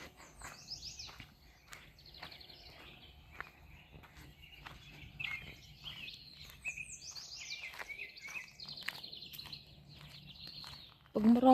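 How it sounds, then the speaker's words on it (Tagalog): Small birds chirp and tweet in short repeated calls at a campground at Hoodoo RV resort, fairly close and clear over a faint steady outdoor background, with a brief louder knock near the end. "Oh, may ibon pa."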